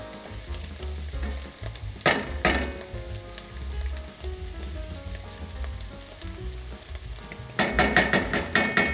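Garlic frying in a pot at the start of an Italian bean soup gives a steady close sizzle, with louder bursts of stirring and scraping around the middle and again toward the end; no one speaks.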